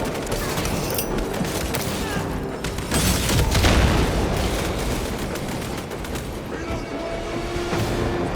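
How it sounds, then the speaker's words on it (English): Frag grenade blast in Warhammer 40000: Space Marine 2, a loud booming burst around the three-second mark amid continuous gunfire and battle din, with heavy low rumble throughout. "Frag grenade deployed."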